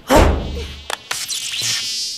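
Buzzing of a robotic spy fly in a cartoon, a loud close insect-like whine that swells and fades, followed by a few short clicks and a thinner lingering buzz.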